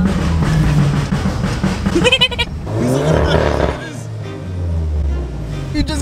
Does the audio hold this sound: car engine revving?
yes